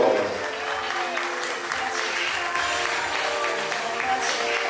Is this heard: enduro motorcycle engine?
no